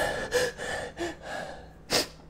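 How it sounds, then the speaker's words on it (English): A few short, sharp breathy bursts, close and fairly quiet, like gasps or a stifled sneeze, spaced apart with quiet breathing between them and a stronger final burst near the end. "I hate sneezes that just come and go."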